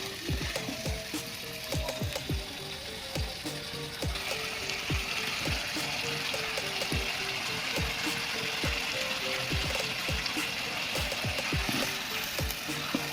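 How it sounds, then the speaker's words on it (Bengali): Beef chaap is stir-fried in a pan, with a steady sizzle and repeated rhythmic scraping and clacking of a spatula against the pan throughout, close and continuous. "এবার আমরা ভালো করে কষে নেব মাংসটাকে চাপের মাংসটাকে ভালোভাবে কষে নেব"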